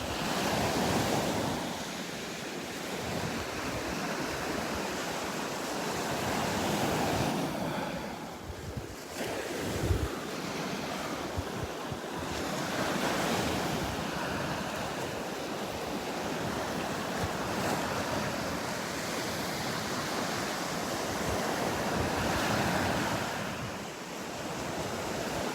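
Surf rolling onto Delnor-Wiggins beach in Florida, a steady broad wash of breaking waves with wind buffeting the microphone throughout, no voices.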